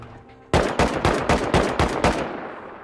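Auto turrets in the Rust video game fire a rapid burst of about seven loud, evenly spaced gunshots, starting abruptly after a quiet moment and ending with a short decaying tail.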